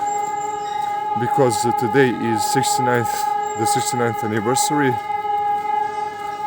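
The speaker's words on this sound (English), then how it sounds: "What you hear now are the sirens in the memory of Warsaw uprising" Civil defense sirens wail steadily across Warsaw on the anniversary of the Warsaw Uprising, a loud sustained tone under someone speaking close by.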